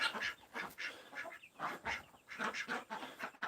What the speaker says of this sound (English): Here, ducks.